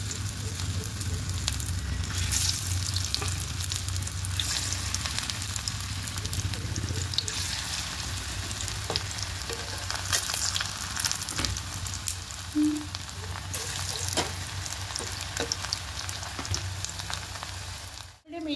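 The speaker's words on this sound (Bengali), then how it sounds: "প্যানটার তেলটা গরম হয়ে গেছে। এবার একে একে দিয়ে দেবো।" Poppy seed fritters sizzle in hot oil in a pan, a steady, fairly soft crackling hiss with scattered sharper pops and a low background hum throughout.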